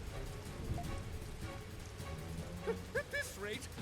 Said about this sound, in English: Of course, it's raining all of a sudden, too.